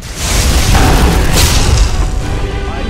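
Lightning strike in Skyrim, a loud sustained booming crack of thunder with broad rumbling noise filling about three seconds.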